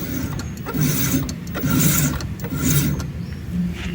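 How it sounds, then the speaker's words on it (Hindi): Harsh rhythmic grinding and rasping from an electric vehicle's faulty rear brake, which locks the rear tyre, rising and falling in repeated strokes, close and loud, with no voices. "ये आवाज़ भी इसके ब्रेक से ही आ रही है।"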